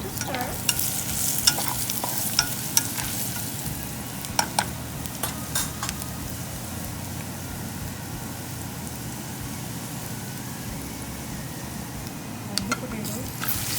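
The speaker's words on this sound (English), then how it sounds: "Give it a stir." Spiced potato stuffing for batata vada frying in a pan, with a constant close sizzle and intermittent scraping stirs and spoon taps; a voice talks now and then over it.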